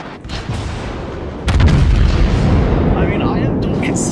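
Battleship Musashi's aft turret guns firing in a naval video game, a heavy booming blast that jumps in loudness midway, followed by rumbling, loud and close, with a voice over it.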